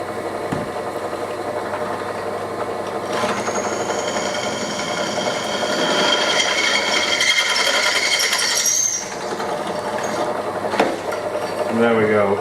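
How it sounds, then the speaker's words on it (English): Drilling a hole in metal with a drill bit lubricated by cutting fluid during a farmhouse restoration, a steady whirring and grinding hum that rises in pitch and intensity midway, dips briefly, then resumes near and loud. "A little bit of cutting fluid to save me drill bit."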